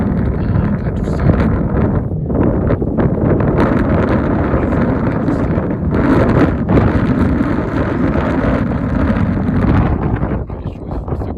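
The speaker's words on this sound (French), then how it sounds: "beaucoup de rafales aussi à 60 km/h" Strong wind gusts of up to 60 km/h roar across the microphone in loud, continuous buffeting rushes that swell and ease in waves, with no voices.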